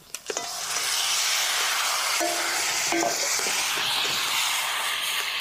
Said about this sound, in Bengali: এখন মশলার সাথে ভালো করে কষায় নিব।